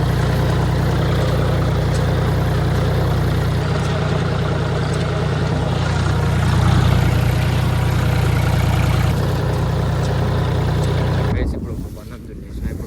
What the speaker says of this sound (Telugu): ఇక మనం ట్రాక్టర్ నడపాలి గైస్